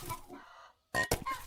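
Hens cluck in a short, close burst, a brief clucking call followed by a pause, then sharper squawking clucks.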